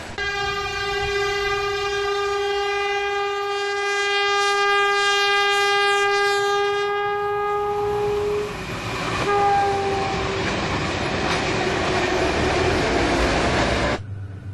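Freight train on the Queensland tropical coast sounding a long, loud horn for about eight seconds, then rumbling past with heavy rolling wheel noise and clanking cars up close, no talk.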